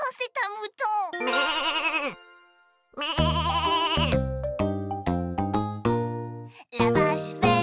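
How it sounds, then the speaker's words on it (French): Cartoon sheep in a French children's animated show bleats in several wavering, drawn-out cries, alternating with a voiced character and bright musical jingles; near and clear. "Mais non, c'est un mouton."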